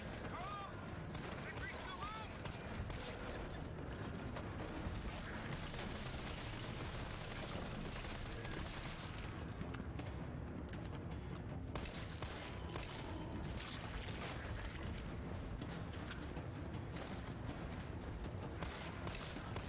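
Constant gunfire fills a fight against zombies in the video game Resident Evil: dense, overlapping shots and bursts at a steady, loud level with no pauses, blended with game noise and a faint voice underneath.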